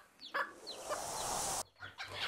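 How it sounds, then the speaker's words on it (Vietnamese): Unicorn chickens on a farm in Quang Ngai cluck and call repeatedly in short bursts over steady outdoor background noise, moderately close, with no talk. "tiên phong đầu tư nuôi gà kỳ lân, giống gà chưa được nhiều người biết đến ở Quảng Ngãi"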